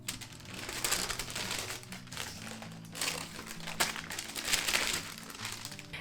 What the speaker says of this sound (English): Now I can take the text block out of the press and peel off the baking sheets.